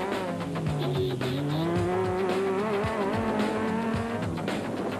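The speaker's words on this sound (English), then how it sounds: "The Raysonics men here demonstrated just how tough driving in the mud can really be." Race cars driving through mud at the 2008 Sun City 400, engines droning and rising in pitch as they pass, a continuous loud roar with wheelspin noise.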